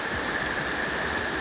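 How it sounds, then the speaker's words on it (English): Torrential Florida rain pours down near a dock in a loud, continuous, dense hiss with no pauses. "now it is a torrential downpour"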